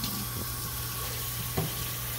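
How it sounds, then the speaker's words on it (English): Hot water runs from a tap in a steady, moderate stream, with a couple of brief clunks partway through and no voices. "I turn the hot water on"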